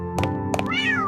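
A cat meows twice in quick succession, then gives a longer rising and falling meow, close and clear over a faint steady background tone.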